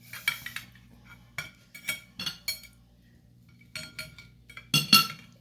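Leftover rice pizza topped with soft tomatoes and cheese being cut in a pan, giving light metallic clinks and scrapes of utensil against pan in irregular bursts, close and fairly quiet.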